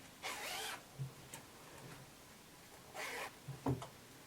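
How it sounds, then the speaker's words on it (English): Two slow pulls of a dress zipper, each a raspy zip lasting about half a second, with soft handling clicks between them in a quiet room. "now we're going to open up our zipper."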